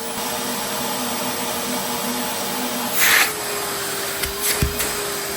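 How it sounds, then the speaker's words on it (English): A 2025 Numatic George wet and dry vacuum cleaner runs steadily while sealed on a water lift gauge, a constant close motor whine with a slight pitch drop and a few brief hissing bursts near the end. "now we're going to see how much power the Numatic George has on the water lift gauge"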